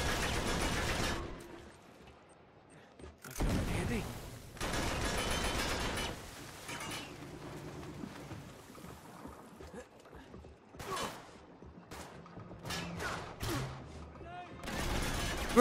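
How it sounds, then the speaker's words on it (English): Grenade launcher fire and explosive bursts in the Uncharted 3 video game, several loud blasts spread across a busy mix with the player talking throughout. "Grenade launcher!"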